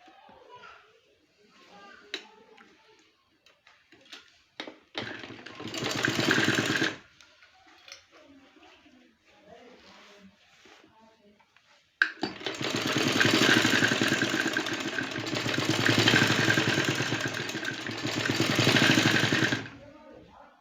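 Sewing machine stitching trouser fabric for cut work design, two bursts of rapid mechanical whirring, a short one and then a longer sustained run, with quiet handling sounds and pauses in between.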